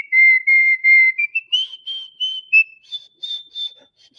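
A person whistling a few phrases of Dixie, a bright tune of held and stepping notes, slightly shaky and breathy, close and alone in a quiet room.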